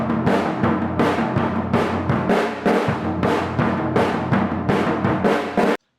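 Drum rhythm played on the low floor tom, a driving song-intro pattern: a steady stream of booming, resonant hits in a quick repeating groove that stops abruptly, with no voices.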